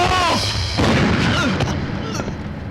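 A gunshot in a dramatic scene from the 2006 Tamil film Varalaru, a loud, close boom that rings out and decays over a couple of seconds amid other scene sound.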